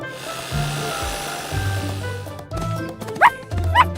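Two short, high cartoon puppy yips ring out near the end over a repeated rasping, sawing rhythm at a construction site.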